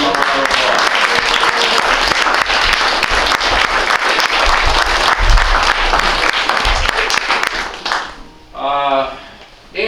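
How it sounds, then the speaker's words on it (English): An audience at a historical society museum open house breaks into loud, sustained applause, dense clapping that fades out near the end as a voice begins speaking. "Please give them a round of"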